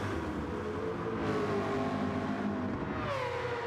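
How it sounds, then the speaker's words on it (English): A race car engine in a video game race at Spa holds a steady high-pitched roar, shifting pitch as it revs and downshifts, continuous and loud throughout with no talking. "Classic, fast, very nice engine sound."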